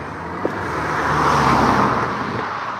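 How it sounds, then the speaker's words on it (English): Cars passing fast on a road on a sunny day, a steady broad traffic roar swelling and easing as vehicles go by, fairly close, with a brief small knock near the start. "God, the cars are going a bit fast."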